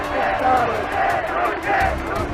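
A large crowd at a Mussolini speech roars with screaming and cheering, swelling in loud waves that fill the whole stretch.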